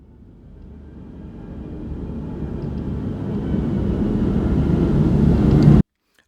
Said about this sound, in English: flying airplanes.